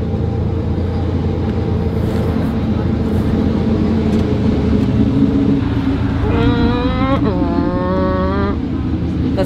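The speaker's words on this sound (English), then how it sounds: "That's the sound of a V8." A V8 bi-turbo engine in a Batman movie hypercar rumbles steadily and loudly, then swells into a rising and falling tonal whine as it revs partway through before settling back.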